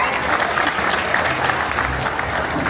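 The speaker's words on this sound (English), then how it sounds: "Big round of applause for our volunteer." Audience applause for a volunteer at a bird show at Animal Kingdom theme park, a steady dense clapping that stays loud and even from start to finish.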